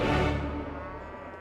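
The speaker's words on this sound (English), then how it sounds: "Lots and lots of cattle." Cattle on a Montana ranch give a single deep, drawn-out moo that starts loud and slowly fades, with no other sounds around it.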